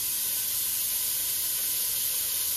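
Sausage sizzling in hot oil in a frying pan, a steady loud broadband hiss and spatter that holds constant throughout with no voices.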